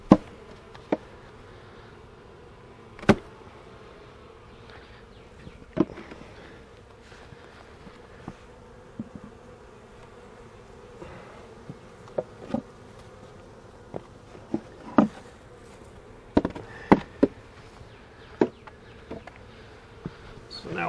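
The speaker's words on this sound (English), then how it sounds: "So we got a few bees still over here in this little box." Honeybees hum in a steady low drone around a small hive box for a long stretch, with scattered sharp knocks and clicks breaking through now and then.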